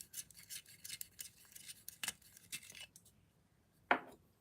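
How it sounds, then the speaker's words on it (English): A pine green colored pencil is sharpened in a handheld sharpener, giving quick faint scraping twists in a steady rhythm, then a pause and a single sharper tap or click. "I think I will go in with another green on the leaves. We can do pine green. Let me sharpen that real quick."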